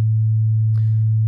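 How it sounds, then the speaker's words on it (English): Low sine wave tone saturated with the Soundtoys Decapitator plugin, a steady, loud, buzzy hum held without change, with a brief faint click partway through. "I will bring down the volume of the sine wave because the saturation may make it a bit loud"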